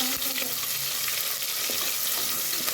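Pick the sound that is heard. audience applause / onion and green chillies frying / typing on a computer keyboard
onion and green chillies frying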